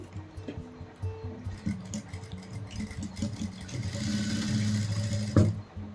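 A sewing machine stitches a dori, running in uneven mechanical bursts with rattling, and it speeds up and grows louder toward the end before it stops abruptly.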